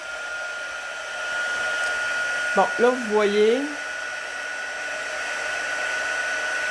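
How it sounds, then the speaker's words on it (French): A heat embossing gun for stamping and card-making runs with a continuous, even blowing whir, while someone speaks briefly over it partway through. "je vais faire du bruit encore. Je fais chauffer mon pistolet."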